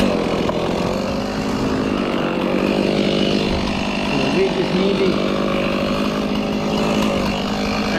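Chainsaw cutting a standard scarf and back cut on a leaning tree felled with wedges, a loud continuous engine drone throughout with someone talking over it.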